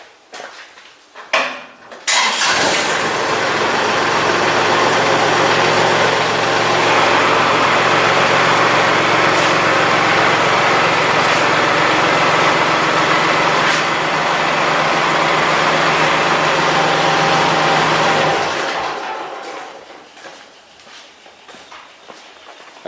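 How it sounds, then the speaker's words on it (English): A tractor engine starts after a few clanks and then idles loud and close in a steady rumbling drone for about fifteen seconds before cutting off, with faint clatter at the end. "I'm going to start the tractor and pull away"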